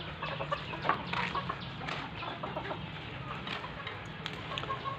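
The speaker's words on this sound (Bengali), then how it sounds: "এগুলো দেশি মুরগি" Desi chickens cluck and call steadily on a farm, close and layered over a low background hum, with faint human voices in the mix.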